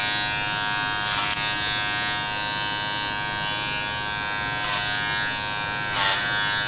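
Electric hair clippers buzz steadily at close range while cutting longer hair clipper over comb during a men's fade haircut, with brief bursts as the blades bite into the hair.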